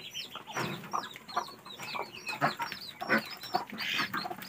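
Muscovy ducks on a farm in Bargarh, Odisha, eating ground paddy feed, with busy overlapping soft clucking and quacking calls close by and the noise of the flock moving about. No talking.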